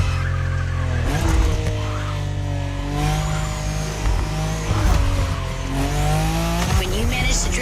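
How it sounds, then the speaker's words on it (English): A bulky car drifts in The Crew Motorfest racing game, its engine droning steadily while tires squeal in long wavering screeches, loud and continuous with a faint voice underneath. "When you manage to drift this bulky bodywork, it's just magic."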